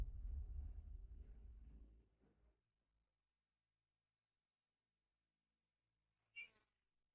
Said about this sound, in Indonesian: Kucing liar dari mana ini?